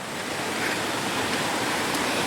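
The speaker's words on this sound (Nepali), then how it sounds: "पानी परेको छ हेर्नुस् अहिलेको दृश्य" Monsoon rain falls steadily at a 132 kV power line work site in Hongu Khola, a dense, even hiss of heavy downpour with no pauses and no voices.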